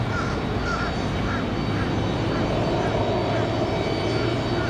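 An Aeromexico Connect aircraft arrives at Raleigh-Durham airport on a windy day, producing a continuous broad engine roar and wind-blown rumble at moderate distance, with faint bird calls above it.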